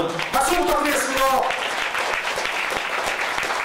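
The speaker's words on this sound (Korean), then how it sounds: "여러분 박수 부탁드리겠습니다." A crowd claps steadily and warmly at a scholarship award ceremony held at a Buddhist temple. A voice speaks briefly over the start of the applause.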